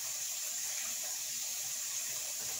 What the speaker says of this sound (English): Yes, the sink water is still going.